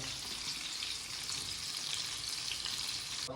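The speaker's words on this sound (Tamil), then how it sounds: "குளத்து மீனை ஜம்முனி பொரிச்சாச்சு" Pond fish (tilapia) fry in hot oil with curry leaves, a steady close-up crackling sizzle that stays fairly quiet and constant throughout, with no voices.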